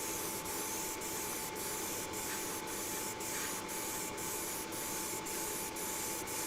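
An airbrush gun lays down a second, slightly heavier coat of paint, giving a steady, close, unbroken hiss with faint regular ticks and no voices.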